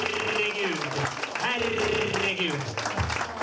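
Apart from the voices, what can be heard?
audience applause at a comedy contest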